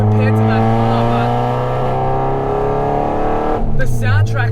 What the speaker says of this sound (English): the soundtrack of the K series engine in this car is just lovely